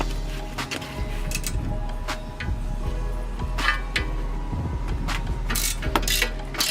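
A ratchet clicks in quick bursts, loosening the 17 mm caliper bracket bolt on a 2017 Jeep Patriot during a brake job, close and clear with no speech.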